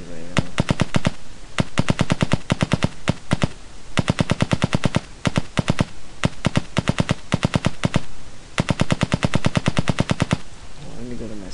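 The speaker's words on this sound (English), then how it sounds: "now if we press play, it's the machine gun" Rapid machine gun bursts from a first-person Unity game, loud and close, firing in repeated rhythmic volleys with short gaps between them.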